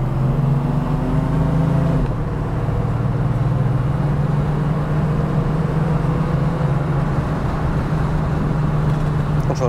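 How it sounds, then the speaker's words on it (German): Engine of a 1966 Mercedes-Benz W108 250S as the car pulls away and drives on, a steady low drone with a small shift near two seconds, continuous and fairly loud throughout. "Der Motor ist halt schon, ja, merklich zu hören"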